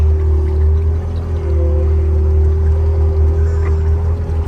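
A theme park ride vehicle at Diggerland Kent moves slowly through a pond of thick, gunky mud, giving a steady low engine drone with a constant tone and a faint watery wash throughout, no talk.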